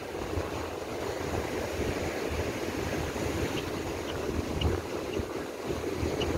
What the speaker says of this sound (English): Really big waves.